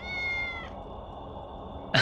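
A cat meows in the video game Tales of the Neon Sea, one drawn-out, clear cry close by, then fading to quiet before a short sharp sound at the end.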